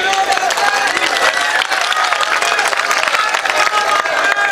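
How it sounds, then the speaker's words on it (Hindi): Audience applause at a mushaira poetry gathering in Saharanpur, loud continuous clapping from a large crowd with some cheering mixed in. "ताली बजाइए।"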